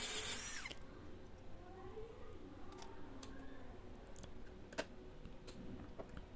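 A Hasston cordless drill bores with a 16 mm bit, heard faint and steady with a low motor drone and scattered sharp clicks and ticks throughout, and no talking.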